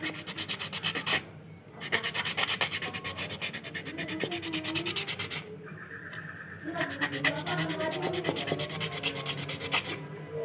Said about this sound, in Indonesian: Terus kita amplas lagi ya guys.